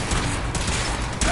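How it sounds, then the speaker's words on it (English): Video game gunfire rattles in a dense, continuous burst of rapid shots, loud and close, with no pauses across the brief stretch. "Taking fire!"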